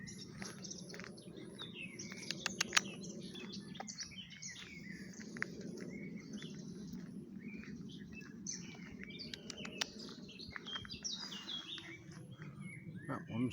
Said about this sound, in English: Oh, so many different birds.